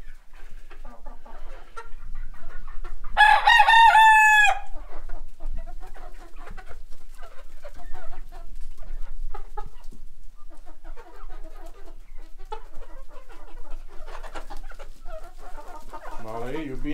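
A big Leghorn rooster crows loudly once near the start, a long rising and falling call close by, with fainter chicken clucks and other bird sounds filling the rest of the outdoor scene in the Canadian woods.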